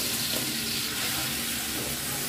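Tomato and pav bhaji masala sautéing in a pan, a dense continuous sizzle with light stirring scrapes, steady and close.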